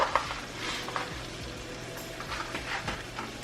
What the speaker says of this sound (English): the water for the spaghetti, we have that boiling